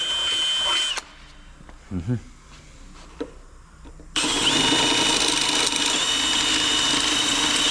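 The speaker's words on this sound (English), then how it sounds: "Do you feel guilty drilling holes in something that you've just painted?" A power drill whines steadily at close range, drilling holes in freshly painted metal after a short quieter stretch with a few brief knocks, running loud and continuous to the end.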